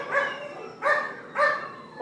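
Small black puppy with a large hernia barking in a kennel, three loud close yappy barks spaced about half a second apart with a fourth starting at the end, no talking over them.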